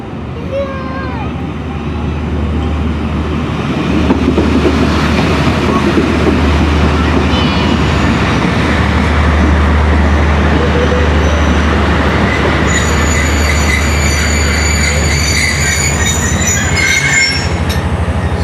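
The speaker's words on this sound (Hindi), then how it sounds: "दोस्तों 39 अब जाफ़र एक्सप्रेस पहले आ रही है और वो मेन पे खड़ी होगी" Jaffar Express train pulling into Dina railway station, a loud, close rumble of rolling wheels and carriages with squealing wheels rising near the end, steady throughout, with people talking faintly in the background.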